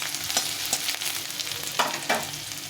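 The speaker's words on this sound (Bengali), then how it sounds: "একটু ভাজা ভাজা করে নিতে হবে সব কিছুকে।" Chopped ginger, chilli and garlic fry in hot oil with a continuous close sizzle, broken by several scraping strokes of a spoon stirring the pan.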